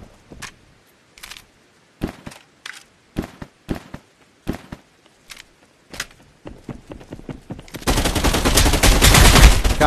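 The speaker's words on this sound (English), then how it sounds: "Somebody's shooting at me." Gunfire in the VR shooter Contractors Showdown on Quest 3: sharp single shots spaced irregularly, then a loud sustained burst of rapid automatic fire near the end.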